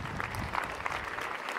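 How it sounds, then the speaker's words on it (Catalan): An outdoor crowd at a commemorative gathering claps in steady, dense applause throughout. "Un aplaudiment, sisplau."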